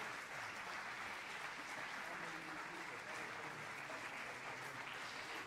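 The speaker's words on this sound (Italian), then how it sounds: "riaccogliamo nell'applauso l'ultima concorrente" Audience applause at a piano and orchestra competition in Cantù for the final competitor, a 15-year-old; steady, dense clapping holds throughout at moderate volume, without a break.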